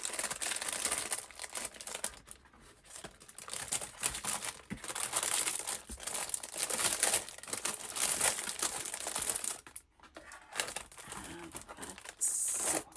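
Plastic sheet crinkling and rustling continuously for many seconds, close and fairly loud, with crackly bursts and brief pauses as it is handled over a journal's paper text block.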